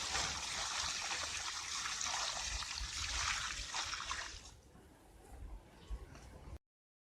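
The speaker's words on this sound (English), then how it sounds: "We pour water very carefully and extremely slowly to thoroughly and completely remove the air pockets" Water poured slowly from a container onto the roots of a transplanted tree, a steady close trickle and splash that fades after a few seconds into faint dribbles.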